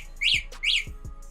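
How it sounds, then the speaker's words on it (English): A Ridstar Q20 electric scooter's key fob alarm sounds two short, bright chirping beeps in quick succession, close and fairly loud over faint background. "If I hit unlock, you'll hear 2 chirps."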